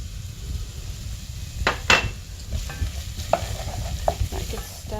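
Flour is stirred into melted butter in a pan for a pie filling: a soft steady sizzle with scraping spoon strokes and a few sharper clicks against the pan, close and clear.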